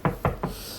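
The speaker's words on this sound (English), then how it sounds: "knock on wood" Knuckles rap three times on wood in an even, fairly quick rhythm, each knock a close, dull thud, with no speech.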